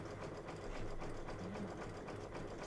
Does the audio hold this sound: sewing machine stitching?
yes